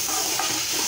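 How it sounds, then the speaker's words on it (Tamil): Onion and tomato sautéing in a pan for a quick Idiyappam kurma: a steady, close hiss of frying with soft stirring scrapes and no voices. "இதை கொஞ்சம் நல்லா வதங்கட்டும்."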